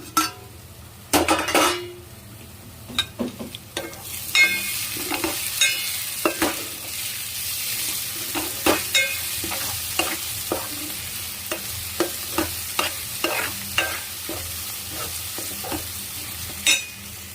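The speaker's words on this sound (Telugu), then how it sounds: "ఉల్లిపాయలు వేగిపోయాయండి" Onions fry in a pan for an egg and dried-fish curry, a steady close sizzle broken by repeated scraping stirs and occasional metallic clinks of a spoon against the pan, with no talking.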